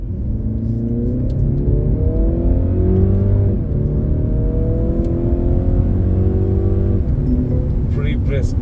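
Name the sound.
Mercedes-Benz C300 AMG accelerating, engine sound heard inside cabin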